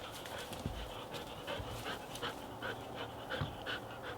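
A dog pants close by in quick, steady breaths, with a low mechanical hum running underneath.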